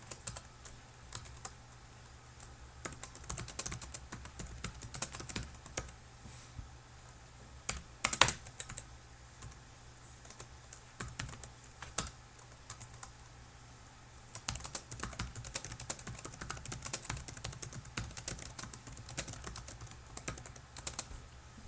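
Computer keyboard keys clatter in quick irregular bursts as code is typed, close and steady with short pauses, no voices.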